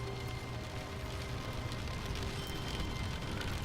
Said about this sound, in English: It's apparently raining outside and in the game now.